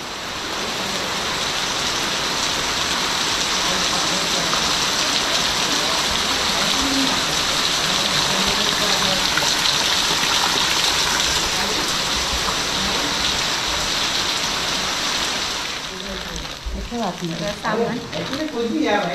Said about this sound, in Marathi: पाऊस बघा केवढा जोरात चालू झाला आहे